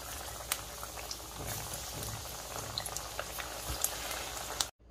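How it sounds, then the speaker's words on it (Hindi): Chana dal tikkis (cutlets) fry in hot oil, giving a steady, close bubbling sizzle that runs unbroken with small crackling pops, with no voices over it. "और जो बची हुई टिक्कियाँ हैं उसे भी फ्राई कर लेते हैं।"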